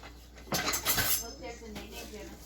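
A knife cuts a 1 pound block of American white cheese into chunks on a board, giving a few close, soft knocks and scraping strokes in quick succession, with no talk.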